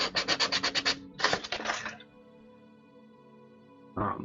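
Sanding a stack of small penguin figures, cleaning up burrs and cracks left from cutting: rapid rhythmic scrubbing strokes in two close, loud bursts, then a quiet pause before another short rub starts.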